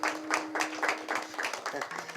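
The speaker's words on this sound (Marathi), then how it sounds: "जोरात टाळी वाजवा राव." A crowd at a lively kirtan claps in steady rhythm. The claps are quick and evenly spaced, over a sustained droning tone and a voice in the background.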